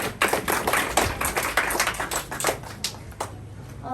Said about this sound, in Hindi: जोरदार ताली से स्वागत करें प्रियंका मिश्रा का